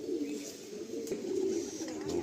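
A Madrasi pigeon gives a low, continuous throaty coo close by, with a steady rolling murmur through the short clip and a faint background of other birds.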